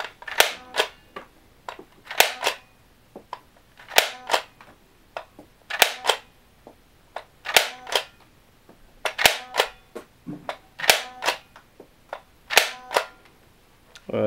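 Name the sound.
Air Zone Dual Ammo Blast toy blaster firing discs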